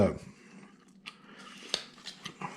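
A knife cuts into wood while carving a small cowboy figure with a rifle, giving faint, close, short scraping clicks beneath soft talk.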